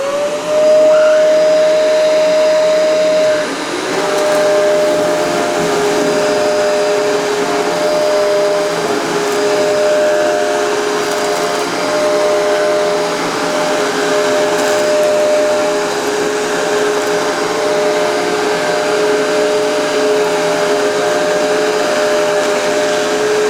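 Shark No Loss of Suction upright vacuum cleaner running steadily indoors, sucking debris off the floor, with a loud continuous motor whine and a brief pitch shift early on, no voices.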